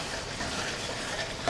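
Lemon juice, chopped coriander and ginger mixed into boneless chicken karahi in a pan, a brief soft sizzle with light stirring, fairly quiet and steady, ending on a small clink.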